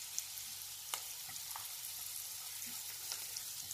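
Steady low sizzle of chopped garlic and green garlic frying in a pan as ginger goes in for anda ghotala street food, with a few faint stirring clicks; quiet and continuous, no talk.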